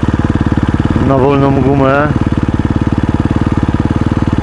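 A motocross enduro motorcycle engine chugs at a steady, pulsing idle close by, with someone briefly talking over it partway through.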